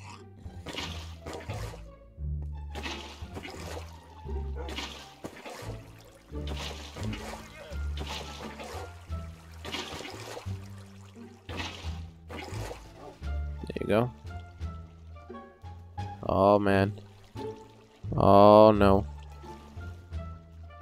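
Flowing water in Minecraft gurgles and splashes in soft bursts beneath almost continuous talking, rising briefly louder near the end.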